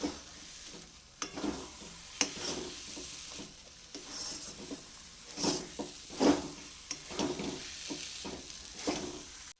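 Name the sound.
stirring semolina frying in ghee in a kadai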